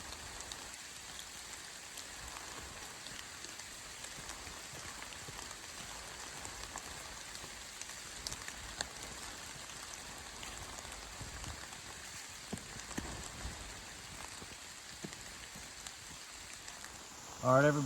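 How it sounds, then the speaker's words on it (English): Rain falls steadily on the Appalachian Trail, a soft, even patter of drops on surfaces and leaves, quiet and continuous with occasional louder drips, and brief handling noise at the very end. "I'm just going to flip it around and let you enjoy the rain."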